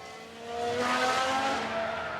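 A Formula 1 car locks its wheels in F1 Manager 22, giving a short tire squeal and skid that swells over about a second against a background engine roar, with no talking.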